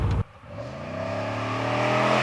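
Front-wheel-drive 2006 Chevrolet Monte Carlo SS with a V8 engine revving. A short burst comes first, then the engine climbs in a steady rising drone, close and moderately loud, with no talking.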